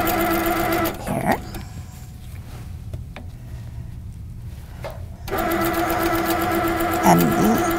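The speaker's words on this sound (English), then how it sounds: "So I'm just continuing to stitch the way I've been." A sit-down quilting machine fitted with a ruler foot hums steadily as it stitches, falls quiet for about four seconds, then starts up again and runs on, close and fairly loud.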